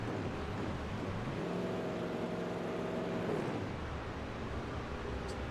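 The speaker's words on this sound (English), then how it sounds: "You can hear him revving the engine there, getting a little frustrated." A race car engine revs in a sim racing game during an endurance race at Watkins Glen, a steady droning tone that climbs and holds before falling back, heard alone with no talking.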